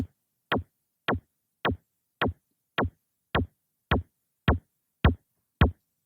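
Eleven punchy, distorted kick drum samples repeat at an even, steady tempo in Ableton, each a sharp thump with a short gritty tail and silence between.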